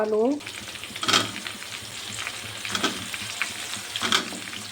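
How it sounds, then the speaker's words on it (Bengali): Potatoes and onions fry in hot oil in a pan, a steady close sizzle broken by a few louder bursts of stirring and scraping, with no talking. "আলু পেঁয়াজটা ভালো করে ভেজে নেব"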